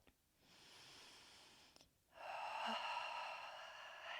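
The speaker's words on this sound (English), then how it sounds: "Maybe it's long, loud exhales like me" Two long, loud breaths out during a yoga splits stretch, close to the microphone, the second stronger and rushing, with a short quiet gap between them.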